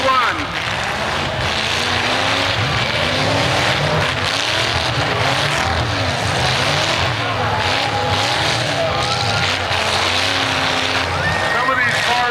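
Race cars roaring around a track, with engines whining and rising and falling as they pass, forming a loud, constant wall of motor noise, with a commentator speaking over it.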